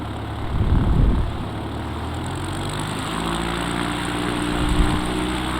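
An X Cub light aircraft engine drones steadily at Carmel Valley Airport, a low continuous hum that swells briefly near the start and again toward the end, with no one talking.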